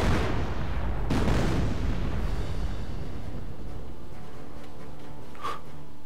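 In Company of Heroes: Opposing Fronts, a heavy burst of gunfire opens the clip, followed by a second loud blast and a rumbling, fading echo, with a sharp ping near the end.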